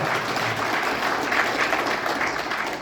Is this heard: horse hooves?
no